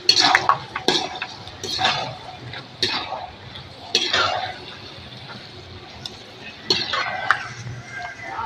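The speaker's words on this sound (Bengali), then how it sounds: "এবারে এই বাদামগুলো ভেজে নেব।" Peanuts being fried and stirred in a pan for homemade dal chanachur, with repeated clinking scrapes of a utensil against the pan in bursts over a soft background hiss.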